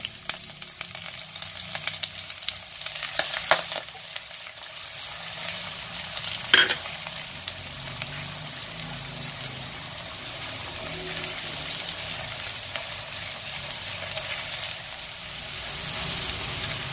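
Onions sizzle in hot oil in a pan, a steady frying hiss with a brief clink of a utensil.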